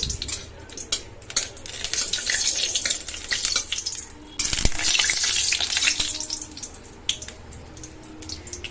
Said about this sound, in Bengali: ফার্স্টে একটা শুকনো লঙ্কা ভালো করে ভেজে নিতে হবে